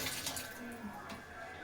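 Spring onion greens are rinsed in clean water, with a continuous close splashing and swishing of water throughout.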